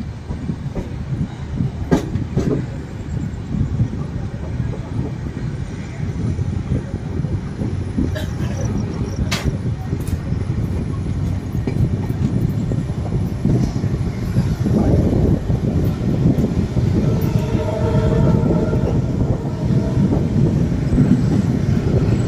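The Panchaganga Express, hauled by a WDP4D diesel locomotive with LHB coaches, rumbles along from inside the moving train, a steady low roar with rhythmic wheel clatter and rising whine over the stretch.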